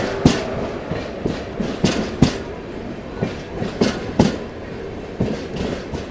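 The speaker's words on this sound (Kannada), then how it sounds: "ಒನ್ 2722 ದಕ್ಷಿಣ್ ಸೂಪರ್ ಫಾಸ್ಟ್ ಎಕ್ಸ್ಪ್ರೆಸ್ ಈಗ ಎಂಟ್ರ್ ಆತ" The Dakshin Superfast Express from Delhi to Hyderabad arrives at a station, its wheels giving a rhythmic clickety-clack over rail joints at moderate distance with no talk.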